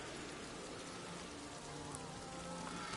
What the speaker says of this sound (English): it's pouring it down rain at the minute